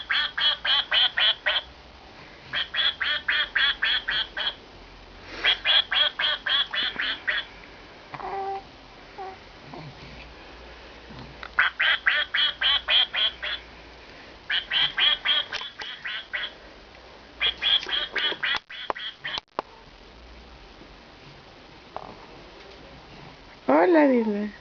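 Bursts of rapid, rhythmic quacking repeat in short clusters, loud and close, with pauses between them and a few faint other noises.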